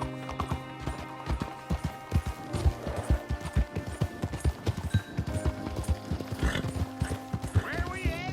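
A horse gallops in Red Dead Redemption 2, with steady rapid hoofbeats, a few snorts and a whinny, moderately loud and continuous throughout.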